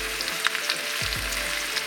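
Pork rinds frying in butter in a pan, a steady close sizzle with a few soft stirring knocks and no talking.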